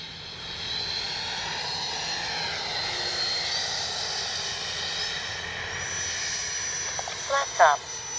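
FMS Integral 80mm RC jet flying a slow pass with flaps down: a steady, sustained electric ducted-fan whine and rush that holds level throughout, with brief bursts of voice or handling noise near the end.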